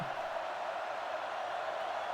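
A home stadium crowd in an American football video game murmurs and grumbles in disapproval, a steady dense roar of many voices holding at a constant level for about two seconds with no single voice standing out.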